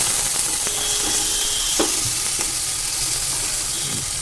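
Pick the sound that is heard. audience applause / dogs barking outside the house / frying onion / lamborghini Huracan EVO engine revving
frying onion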